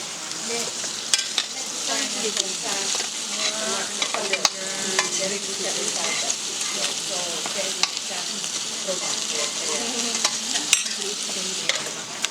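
Minced pork fries in grapeseed or avocado oil for a Thai basil dish, a steady close sizzle with frequent scraping stirs and clicks of a utensil against the pan, carrying on unbroken with no talk.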